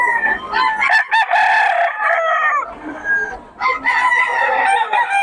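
A fighting rooster crows loudly and close by at a crowded cockfighting market in Bocaue, several overlapping cock-a-doodle-doo calls with clucking in between, no talking.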